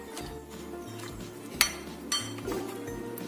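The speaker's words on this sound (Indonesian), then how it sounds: "Kita aduk sampai tercampur rata." Sweet potato snack batter stirred in a bowl, with intermittent spoon clinks against the bowl, one sharp tap standing out among softer scraping knocks.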